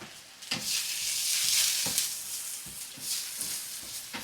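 Black drum fish fillets frying with onions and garlic on an electric stove, a continuous close sizzle broken by a few soft stirring scrapes, with no one speaking.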